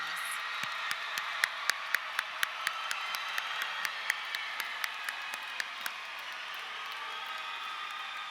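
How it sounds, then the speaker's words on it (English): Sparse, crisp claps ring out one by one in a steady rhythm at a high school graduation, fading after a few seconds into a faint room hum. "Let us stand to our feet and give the class of 2015 a round of applause"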